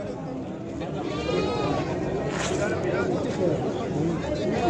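Sheep and lambs bleat repeatedly at a Wednesday livestock bazaar in Shahrisabz, several overlapping calls close by while people talk and haggle over prices in the background.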